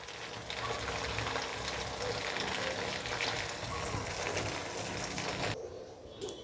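Paneer and potato snacks fry in hot oil with a dense, steady sizzle that runs close and loud almost throughout, then drops away abruptly near the end, leaving a brief quieter tail.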